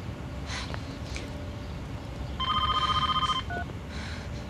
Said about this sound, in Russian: О, телефон.